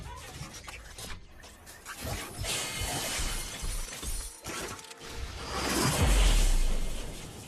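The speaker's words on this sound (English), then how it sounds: "Let's open another loot box. Again, focus on the audio and visual effects." Video game loot box opening effects for a legendary reward: whooshing swells, glassy shattering crashes and mechanical clunks build over several seconds into a loud, booming, rumbling climax.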